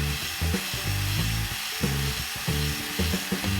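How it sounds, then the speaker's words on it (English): Wire is wound into a replacement spring for an old sewing machine, producing a loud, rough, rhythmic grinding and rubbing pulse that repeats about every half second, with no talking. "the spring is now growing, and we're making a spring, hopefully the right size"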